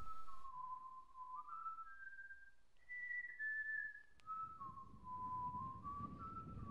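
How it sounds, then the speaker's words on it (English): A clear melodic whistle drifts up and down in steady held notes over a quiet backdrop in the Telltale Game of Thrones game, Episode 2 "The Lost Lords," with a faint low rumble rising near the end. "I seriously thought someone was whistling in my house, but it was only game"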